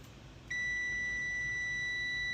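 A Samsung dryer control board being bench-tested gives a steady, continuous electronic beep that starts abruptly and holds at a constant high pitch, close and clear over faint background hiss.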